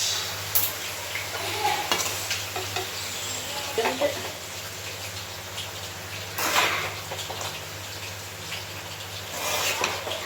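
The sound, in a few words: stirring frying chicken rice in pan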